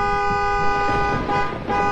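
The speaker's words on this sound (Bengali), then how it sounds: "এটা গাড়ির আওয়াজ ছিল না?" A car horn sounds a sustained, steady toot through most of the moment over a cartoon street backdrop, fairly loud and close, with a faint voice briefly under it.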